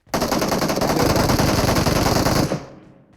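Sustained automatic gunfire in PUBG Mobile, a dense rapid burst of shots lasting over two seconds, loud and close, then cutting off abruptly.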